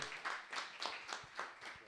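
Audience at a real estate sales meeting applauding a broker panel speaker: a brief, quiet round of clapping with distinct hand claps in an uneven rhythm, heard alone.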